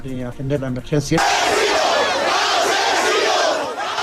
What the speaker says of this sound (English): A hostile crowd greeted them with cries of asesino, or killer in English